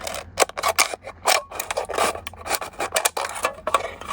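Scissors slice down the seam of an aluminium soda can in a quick series of crisp, rasping snips and scrapes, close and fairly loud, with no voices.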